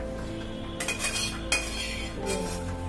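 Cooked food scraped and poured from a wok into a container, with a few sharp metallic clinks and scrapes of a utensil against the pan over a low background hum, fairly close and quiet.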